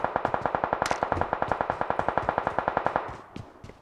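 Rapid automatic gunfire in the PUBG battle royale game on the Miramar desert map, a steady burst of evenly spaced loud shots for about three seconds that stops abruptly, followed by faint distant pops.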